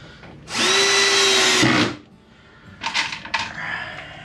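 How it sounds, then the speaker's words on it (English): A power drill drives screws into plywood to fix an undermount drawer slide, giving one loud, steady whirring burst of about a second, then quieter handling clatter and a few short knocks. "Got 2 screws in there. Let's go ahead and put a couple more in the smaller holes"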